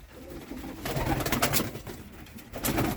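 A pair of black Bielefeld tumbler pigeons coo in a loft, soft repeated throaty calls close by, with some rustling and movement between the calls.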